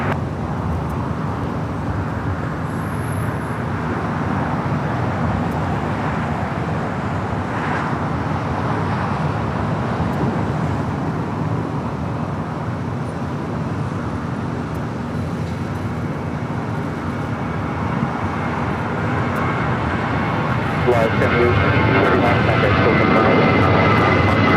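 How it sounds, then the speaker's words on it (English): A United Boeing 737-900ER touches down at LAX, its steady broadband jet roar holding close and loud throughout and swelling slightly near the end, with no talk over it. "a United 737 at 900 ER, coming in from Dulles, just touching down here on the south side"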